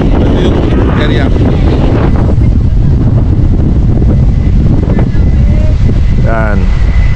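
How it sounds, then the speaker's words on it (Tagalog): Strong seaside wind buffets the microphone outside a cafe during a typhoon, a loud constant low roar throughout, with people talking briefly in the background. "Ang lakas ng hangin"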